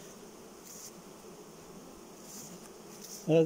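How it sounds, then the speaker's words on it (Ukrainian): Ukrainian steppe honeybees hum steadily around rows of beehives in an apiary, a continuous close buzzing swarm that stays even throughout, with a brief louder rustle right at the end. "Оце ми йдемо по всіх рядах вуликів."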